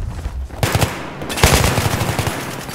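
Gunfire in the Battlefield 3 video game, loud close bursts of rapid automatic shots separated by a brief pause, then a longer sustained stream of shots.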